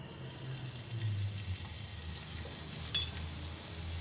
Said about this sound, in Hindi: तो यहाँ पर मैं ऐड कर देती हूँ थोड़ा सा बटर।